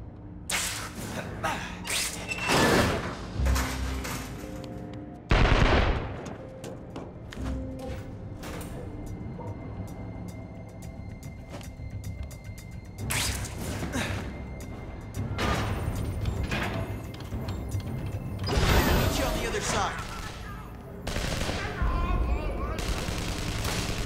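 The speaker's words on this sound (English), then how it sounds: "Could you please ask them to stop shooting at me?" Gunfire in the Amazing Spider-Man video game for PS Move, repeated bursts and volleys of shots over steady game noise, with some louder close hits and voices talking at times.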